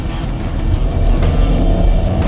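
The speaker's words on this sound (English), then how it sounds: "I'm driving the 2-litre FSI petrol, and this is one super smooth motor car." An Audi Sportback with a 2-litre FSI petrol engine drives along, giving a steady, smooth low engine drone mixed with road and wind noise, heard from inside the moving car without speech.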